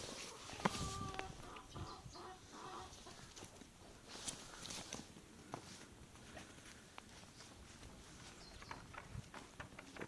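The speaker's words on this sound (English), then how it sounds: "The chickens are going crazy." Chickens cluck and squawk in a busy flurry alongside shuffling footsteps, faint and somewhat distant, with scattered sharp clicks.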